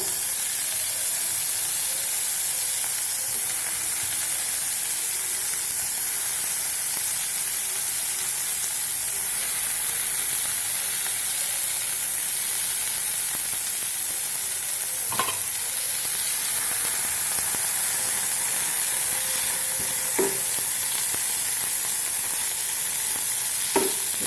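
Two tomatoes fry in a pan with softened onions, sending up a steady, even sizzle and hiss throughout, with a few faint scrapes of stirring and no talking.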